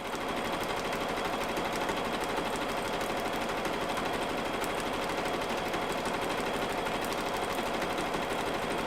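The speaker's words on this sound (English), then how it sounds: "I can just lower my foot and should be able to start sewing" A sewing machine runs steadily as it stitches fabric, giving a continuous fast mechanical whir and clatter at an even level throughout, with no voices.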